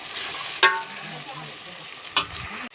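Ginger, garlic and chillies frying in oil for urad dal: a continuous sizzling hiss broken by two sharp metallic clanks of a spoon against the pan, close and fairly loud.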